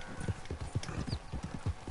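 Horse hooves in Red Dead Redemption 2 clip-clop in a steady, even trotting rhythm, close and fairly loud over a constant outdoor wash.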